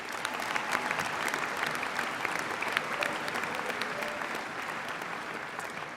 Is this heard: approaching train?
no